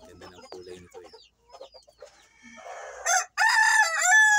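A silkie rooster among heritage hens, including Rhode Island and Jersey Giant birds: a series of soft clucks, then a loud, close crow.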